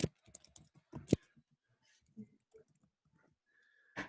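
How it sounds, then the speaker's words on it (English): Typing on a computer keyboard during a Linux workshop session, heard as a few quick clusters of close, quiet key clicks with pauses between them and no talk. "I wish I was better at typing."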